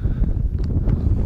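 Wind buffets the microphone in a dense low rumble beside a field near Bukhara, Uzbekistan, gusting unevenly with faint rustling of blown plastic bags on top.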